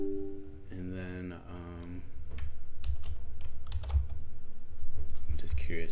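Computer keyboard keys being typed in a terminal during a Python programming session, a quick run of close clicks and taps that follows a stretch of speech at the start.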